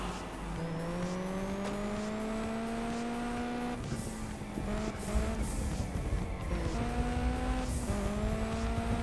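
Race cars boost with nitro in Juiced 2, engines whining and rising in pitch through gear shifts, loud and sustained, with tire noise and another car passing.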